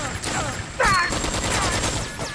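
Rapid gunfire bursts from a third-person shooter, Metal Gear Solid 3 played online, crackle in a dense stream with a sharper burst near the middle, fairly loud and continuous with no talk.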